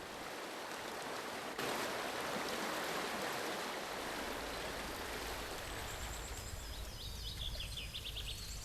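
Agay waterfall near the Berber town of Sefrou, Morocco: a steady broadband roar of falling water that swells after the first second and a half, with faint bird calls chirping over it near the end.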